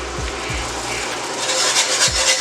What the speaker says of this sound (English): Continue stirring and whisking it.